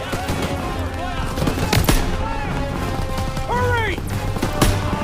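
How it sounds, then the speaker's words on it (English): Machine guns fire in Call of Duty: WWII, a loud, continuous rattle of rapid bursts with distinct sharp shots cutting through, mixed with other battle noise. "Those MGs are ripping us apart!"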